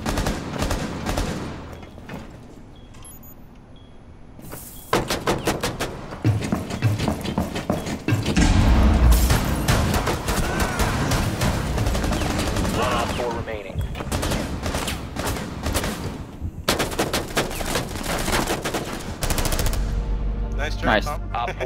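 Bursts of automatic gunfire in Rainbow Six Siege, a plane team deathmatch bomb round, striking a player's shield; dense rapid shots start and stop repeatedly across the stretch, loud and close, with game effects between volleys.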